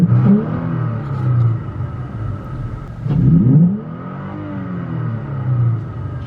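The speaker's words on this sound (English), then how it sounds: "let me give you some neutral revs real quick here." A 2020 Toyota Tacoma with a K&N cold air intake, revved in neutral: two loud, close engine blips surge and fall back to a rumbling idle, with no talk.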